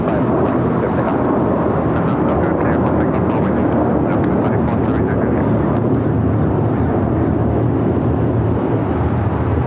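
A heavy airliner takes off from runway 25 left at Los Angeles International Airport, a loud continuous jet roar filling the whole stretch, rumbling and broadband.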